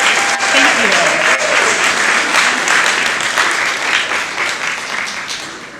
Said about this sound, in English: So how about a round of applause for all of them?